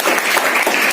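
Students at a government high school science day event applauding together, a dense, steady burst of clapping that fills the whole moment at close range.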